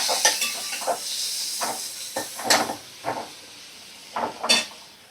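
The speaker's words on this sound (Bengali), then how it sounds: "এবার আমি দেখো কাঁচা লঙ্কা কুচো আর টমেটো কুচি এর মধ্যে দিয়ে দেব।" Chopped green chillies and tomato go into a frying pan of fish and aubergine, raising repeated sharp bursts of sizzling and spatula stirring that come in irregular bouts, close up, with no talk.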